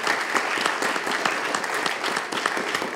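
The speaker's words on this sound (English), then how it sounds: "Let's give up a round of applause to Gray, to Vicky, to Elena" A conference audience applauds with dense, steady clapping from many hands, loud and continuous throughout the short stretch, with no voices standing out.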